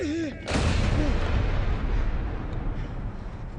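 Heavy incoming artillery or bomb blast in combat, a sudden loud booming impact that rolls into a long rumbling decay, preceded by brief shouted voices.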